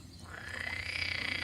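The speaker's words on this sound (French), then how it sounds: "On les entend chanter, vos grenouilles." Frogs croak in a duckweed pond, a dense, continuous chorus of fairly close calls that swells in after a brief quiet start and holds steady.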